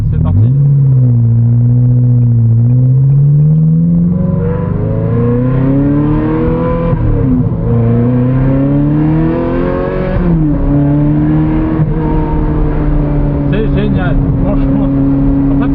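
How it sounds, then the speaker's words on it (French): A Ferrari accelerating hard on a race track, its engine loud and close, pitch climbing through several gear changes with brief dips between shifts, sustained over the whole stretch. "je suis dans ma Ferrari là, je conduis ma Ferrari"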